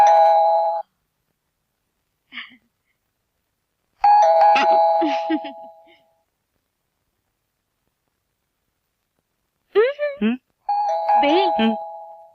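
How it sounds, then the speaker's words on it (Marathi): Doorbell in a Marathi comedy film scene, chiming clearly twice with silent pauses between rings, followed by people talking. "बेल"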